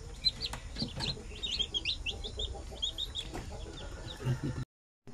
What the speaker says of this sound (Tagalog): Sampo na sisiw, yung iba nag-crack na naman yung iba.